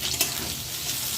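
Sajne flowers frying with salt in a pan, a steady soft sizzle with faint stirring, no talk.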